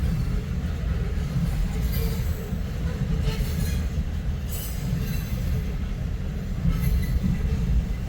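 A long freight train made up of DME cars rolls past steadily, heading south out of Bartlett toward Mexico as a flour shuttle, with continuous loud rumble, wheel noise and faint squeals, no talk.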